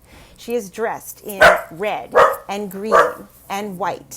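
A dog barks repeatedly in a quick rhythm indoors, close and fairly loud, overlapping someone speaking.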